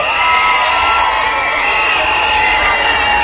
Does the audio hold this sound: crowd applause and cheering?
yes